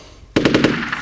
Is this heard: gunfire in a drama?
yes